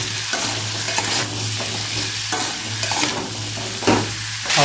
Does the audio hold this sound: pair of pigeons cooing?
no